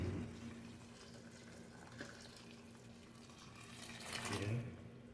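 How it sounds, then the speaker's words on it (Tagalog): Boiled water pours into a pan of simmering sea mullet with tomatoes, a steady quiet splashing and sizzling pour that swells louder near the end. "lagyan na natin ng pinakulong tubig."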